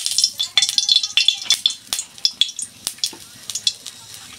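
A little oil sizzling in a kadai, with rapid clattering stirring scrapes and sharp metallic taps crackling over the hiss in quick uneven bursts close by.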